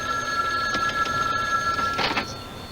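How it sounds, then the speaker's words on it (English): A telephone bell rings in a couple of bursts, with sustained tonal ringing and a brief clatter, fairly close and clear. "If only he could resist a ringing telephone."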